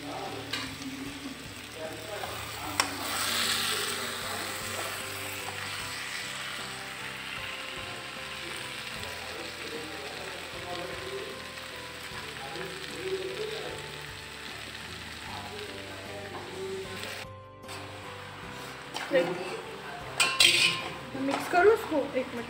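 Vegetables sizzle and are stirred in a kadhai (wok) with clinks and scrapes of a metal utensil on the pan. People talk over the cooking.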